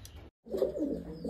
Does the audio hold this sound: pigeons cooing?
yes